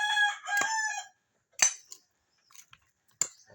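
A rooster gives one loud, close crow at the start, followed by sharp clanks and clatters of pots and dishes with silent gaps between them.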